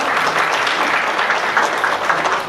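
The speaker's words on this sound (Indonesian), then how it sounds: "Tepuk tangan dong untuk acara hari ini." An audience at a career and healthy-living talk event breaks into applause, a loud, dense, continuous clapping from many people that holds steady for the whole stretch.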